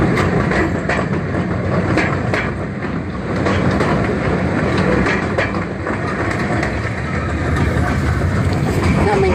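A zoo train ride rumbles along its rails with a steady, loud clatter, rhythmic clickety-clack wheel beats and occasional metallic ticks running continuously close by.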